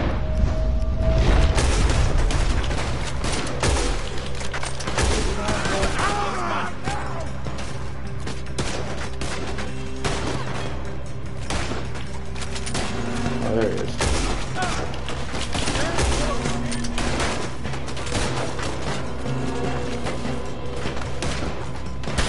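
Firefight in the video game Red Dead Redemption 2, with dense, continuous gunfire and booms that stay loud throughout, layered with mechanical clatter and a low rumbling game score.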